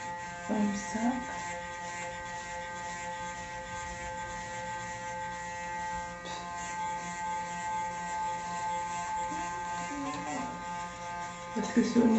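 An electric facial cleansing brush buzzes steadily close by on a higher setting, a constant motor whine running under a woman's intermittent speech.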